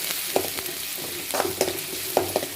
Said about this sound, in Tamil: சோம்பு கொஞ்சம் போட்டுட்டு நல்லா எண்ணெயில் தனியாக வறுத்துட்டு இந்த பெரிய வெங்காயத்தை கலக்கி நல்லா கலக்கி விட்டுக்கணும்